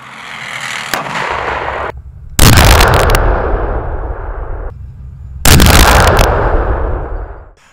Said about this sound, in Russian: В ходе выполнения упражнений ведется стрельба по мишеням на расстоянии от 800 до 1200 метров.